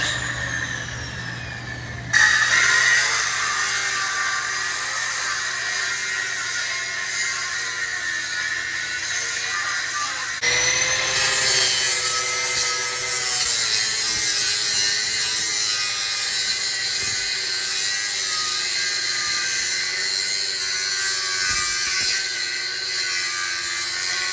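Angle grinder fitted with a cutoff wheel cutting metal while working on a John Deere Flex 71 planter: a harsh, continuous high-pitched screech that starts abruptly, briefly restarts midway, and holds loud and close throughout.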